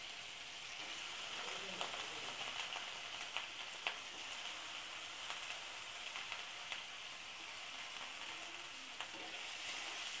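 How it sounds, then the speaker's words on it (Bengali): Potato pieces fry in hot oil with a faint, steady sizzle and scattered small crackles throughout. "তো এতে তেলটা গরম হয়ে গেছে, এবার আলু কেটে রেখেছিলাম যে সেগুলো ভাজি করে নেব।"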